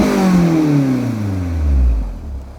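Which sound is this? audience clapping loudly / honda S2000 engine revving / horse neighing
honda S2000 engine revving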